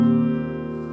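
A small upright piano sounding a single sustained chord that rings and slowly decays, close and clear with no talk.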